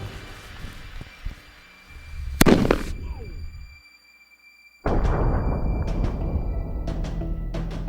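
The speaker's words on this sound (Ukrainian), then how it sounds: "чи отримаємо ми вдвічі сильніший вибух, якщо візьмемо вдвічі більше пороху?" A sharp, loud gunpowder blast bursts out, trails off into rumbling quiet, then a second, more powerful gunpowder explosion erupts and roars on, outdoors.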